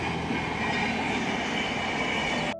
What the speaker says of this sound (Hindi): ये इस ब्रिज पर ट्रेन आ चुकी है।